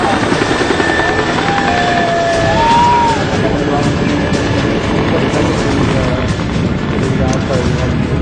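Rescue helicopter hovering low over a burning commercial building in Andheri, Mumbai, lifting people out on a long rope; a steady, dense rotor and engine roar fills the scene throughout, with a voice speaking over it.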